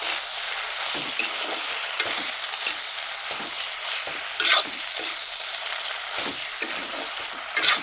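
Coriander leaves being stirred into vegetables in a little oil, with a steady soft sizzle and scraping spoon strokes against the pan, plus a few sharper clinks along the way.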